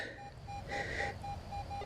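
A metal detector sweeping over a buried target at John Stiff Park gives repeated short electronic beeps in an even rhythm, with a longer higher tone in the middle, over outdoor background noise.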